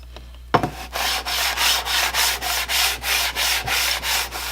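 Rust is scrubbed off an old hand plane in steady, rhythmic back-and-forth strokes, about ten even passes, close and fairly loud, after one sharp knock at the start.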